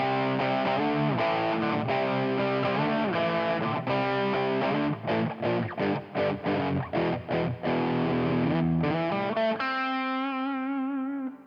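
An electric guitar runs through an Ibanez TS-5 overdrive pedal with the drive turned up, playing sustained distorted chords and then a choppy rhythmic passage before one long chord rings out and fades.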